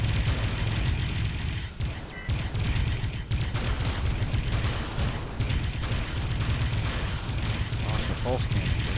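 Weapon fire in the space game Avorion, a pulse cannon shooting in dense rapid bursts that run nearly the whole time, with faint voices mixed in.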